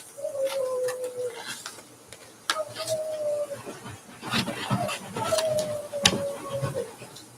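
A child imitating a dog, giving three drawn-out, steady howls with soft noises and clatter between them, fairly close and moderately loud.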